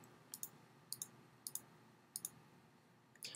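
Computer mouse clicks come in quick pairs as boxes are checked next to documents, about five faint, crisp double clicks spaced evenly over a quiet background.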